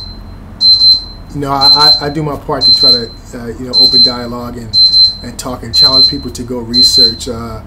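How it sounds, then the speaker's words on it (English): A phone alarm beeping in the background in short, regular high pulses about once a second, clearly audible under someone talking continuously up close. "So that beep in the back, that's my phone."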